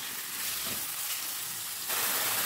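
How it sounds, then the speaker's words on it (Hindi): Chicken frying on high flame, for a barbecue chicken rice dish, crackles in a steady close sizzle that grows slightly louder near the end, with no talking. "चिकन को तो मैंने पाँच मिनट के लिए फ्राई कर लिया हाई फ्लेम पे"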